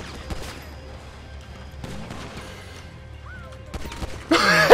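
A few scattered gunshots crack in the video game Counter-Strike over a low hum, ending in a loud burst of noisy blasts.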